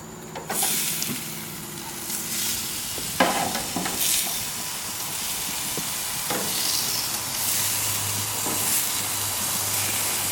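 Pork chops sizzle loudly on a hot grill as they are flipped over, a strong steady hiss with sharp scraping clinks of the turning tool near the start and middle.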